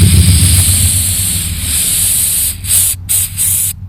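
Cleaner sprayed into a car fuel filter on an El Camino, a loud steady hiss of aerosol spray with a low engine-like rumble beneath, broken by several short pauses near the end.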